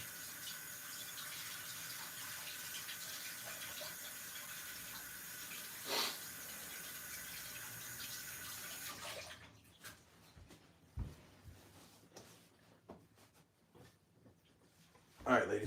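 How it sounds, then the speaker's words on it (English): Running tap water pours steadily while hands are washed before cooking Egyptian sogo sausage, a broadband rush that stops abruptly, leaving a few faint clatters and knocks in a quiet kitchen. "Let me wash my hands."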